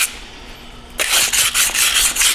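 Sanding 4L60 transmission sprag races gives a steady close-up rasping rub, quiet at first, then louder strokes for the rest, with no talk.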